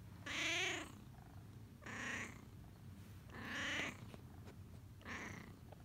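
A cat wrapped in a heated blanket gives four drawn-out voiced calls, each rising and falling, close and fairly soft over a low steady background.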